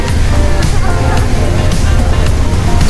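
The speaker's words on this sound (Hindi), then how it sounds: "पानी के गिरने की आवाज़ भी किसी झरने की आवाज़ से कम नहीं है।" A fountain at Aerocity in Delhi pours water in a loud, steady rushing splash, with crowd chatter mixed in around it.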